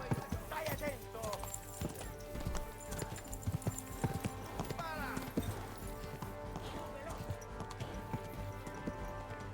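Rapid clip-clop of galloping hooves with a horse whinnying in Kingdom Come: Deliverance II, set against game music and sound effects, with voices talking over it.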